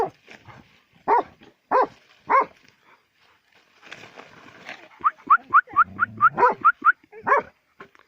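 An old dog gives a few spaced barks, then a rapid run of yelps and whines, close by, with scattered voices mixed in.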